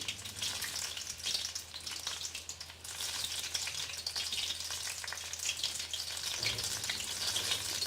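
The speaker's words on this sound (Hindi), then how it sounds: "इस तरह से तो इनको फ्राई कर लेंगे।" Chicken samosas fry in hot oil with a steady, dense sizzle that crackles evenly up close for the whole stretch, with no voices over it.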